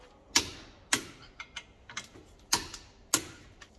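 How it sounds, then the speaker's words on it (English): A wrench torques up the brake caliper bolts on an Abarth 595 with Brembo brakes: sharp, loud metallic clicks in irregular pairs, with softer ratcheting ticks in between and no voices. "Now, just torque these bolts up."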